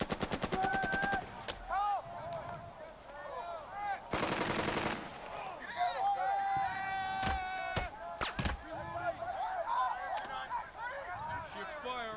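Gunfire in the WWII Sicily beach battle of the game Burden of Command, rapid machine-gun bursts and single sharp shots at close to mid range, with clinks and tonal game effects in between.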